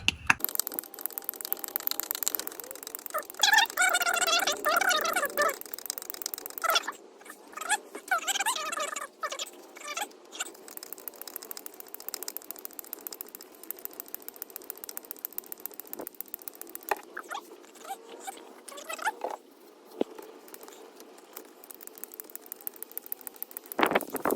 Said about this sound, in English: start pumping this last bottle in and see how much we get